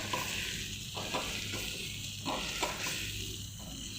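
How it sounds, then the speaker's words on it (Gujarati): A ground spice mix of fennel, cumin and coriander frying in a little oil for a samosa filling, giving a soft continuous sizzle with a few stirring scrapes, close and fairly quiet, with no talk. "આપણે આ રીતે એને 1 મિનિટ માટે સહેજ તેલમાં સાંતળી લેવાનું"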